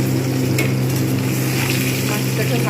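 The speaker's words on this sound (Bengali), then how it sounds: "এবার আমি সাবধানে মাছ একটা করে ছেড়ে দেবো। আগে দুটো ভেজে নেবো।" Small parshe fish fry in hot oil, giving a steady, dense sizzle throughout with no talking.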